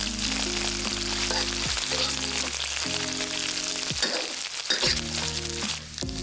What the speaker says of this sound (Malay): Mula-mula kita goreng dulu ikan bilis sampai rangup yang baki tadilah